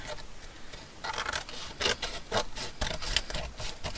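Paper being trimmed off a junk journal page with scissors or a blade, heard as a run of close, soft scraping and rasping strokes in an uneven rhythm, alone with no talk.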